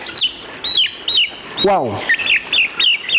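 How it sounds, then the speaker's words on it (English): Thousands of farm chickens with bright, repeated chirping calls and one falling squawk, close and loud; a person briefly exclaims. "This is a chicken, and look behind me, we've got thousands of chicken."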